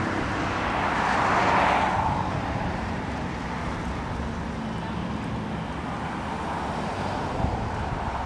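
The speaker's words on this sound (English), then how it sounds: "Selbst eine Probefahrt durch den dicken Verkehr auf den Straßen Dubais gehört dazu." Car on a test drive through heavy street traffic in Dubai: a continuous broad roar of road and engine noise with wind buffeting, steady and fairly loud, with no talk.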